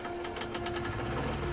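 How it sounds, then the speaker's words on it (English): A small engine in the video game The Vanishing of Ethan Carter runs with a rapid, steady mechanical chatter, buzzing close and constant throughout. "So it sounds like a relatively small engine"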